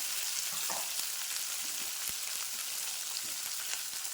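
Cumin, crushed onion and garlic fry in oil with a soft, steady crackling sizzle throughout, faint and even, with a few small pops and no voices.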